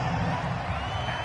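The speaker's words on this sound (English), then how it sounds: "The crowd's not doing that O-line any favors." Stadium crowd roar from a PS4 football video game at a home-field game against the Texans, a steady, dense wash of noise throughout, moderately loud with no breaks.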